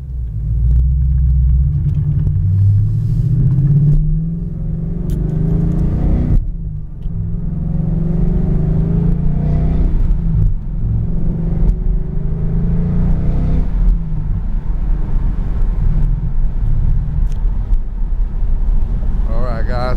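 A 2015 Ford Mustang GT with the performance package and Super 44 mufflers rumbles close by with a deep, steady exhaust note and mild rises in revs, while someone talks over it throughout.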